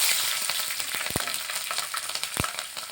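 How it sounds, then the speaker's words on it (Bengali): Whole cumin seeds and green chillies fry in hot oil with a steady, close crackling sizzle, broken by two sharp pops partway through; no one speaks. "ভালোভাবে জিরেটাও ভেজে নিচ্ছি। দিয়ে দিলাম কটা কাঁচা লঙ্কা।"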